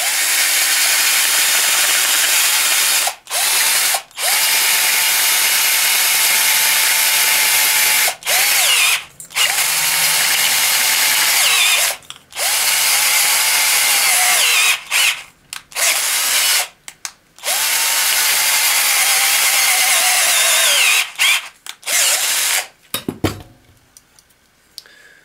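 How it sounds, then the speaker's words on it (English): A power tool whines loudly in repeated bursts of a few seconds each, separated by short pauses, while it deburrs the cut ends of an aluminum tube for a folding bucksaw. "I have to just deburr the ends of the tube to be sure it fits right in."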